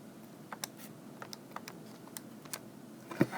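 Calculator buttons are pressed to enter a math calculation: a quiet run of light, irregular taps, with one slightly louder press near the end and no voices.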